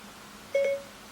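A Siri voice assistant activation chime sounds on a phone and a watch at the same moment: one short, clear electronic double tone, close and fairly soft, over a quiet room with no talk.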